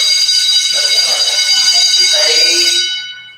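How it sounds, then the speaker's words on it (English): An electronic quiz buzzer sounding during a buzzer check at a school quiz bowl match: one loud, steady, harsh tone held for about three seconds before cutting off, close and alone. "let's do a buzzer check just so you get used to it"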